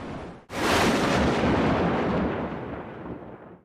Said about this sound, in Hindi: एक रात अचानक तेज हवा चली। बादल गरजने लगे।